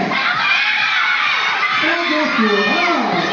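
Children at a kids' game event in a shopping mall shout and cheer loudly together, a sustained crowd of young voices with an adult's voice cutting in near the end.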